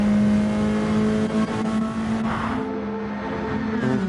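A race car engine revs out past the Ascari chicane at the Monza circuit, a loud, continuous, harmonically rich drone holding high revs with slight pitch shifts and no voices.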